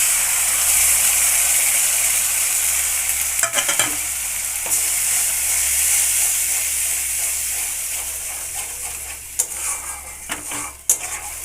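Tomato, ginger, cumin, coriander and turmeric paste sizzles steadily in oil in a kadai, a loud continuous frying hiss broken by a few sharp scraping stirs near the end.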